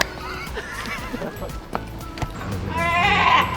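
A person imitates a seal's call with a close, wavering, bleating cry that swells louder toward the end, against a busy indoor background.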